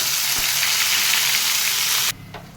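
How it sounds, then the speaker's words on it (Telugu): Masala of tomato with ginger and small onion paste sizzles and fries steadily in a pan for about two seconds, then cuts off sharply to a quiet pause with a faint stir. "మసాలా అంతా వేగిపోయింది కదండి"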